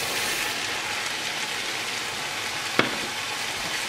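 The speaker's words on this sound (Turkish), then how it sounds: "Ve karıştırıyorum biraz." Bulgur frying in a pan while being stirred, in the making of tomato bulgur pilaf: a steady, close sizzling hiss with one sharp scrape or clink near the end.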